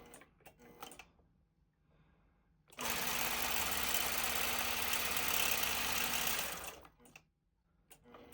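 Sewing machine running for free-motion quilting, a loud continuous mechanical whir lasting several seconds, close up, with quieter handling noises before and after.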